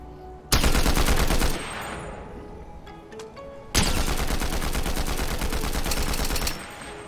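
Rapid automatic gunfire from a weapon in Fortnite Zero Builds, two long loud close bursts of fast repeating shots, each lasting a few seconds with a pause between, and no talking.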